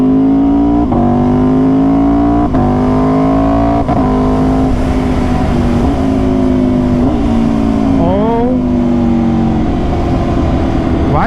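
An Aprilia RSV4 motorcycle engine revs loud and close while being ridden, its strong tone rising and falling across several throttle blips and gear changes, with steady road and wind rush underneath.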